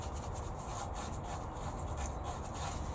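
A brush applies red cedar wood treatment to wooden nest boxes, producing a steady, continuous scratchy rubbing close by with no pauses or voices.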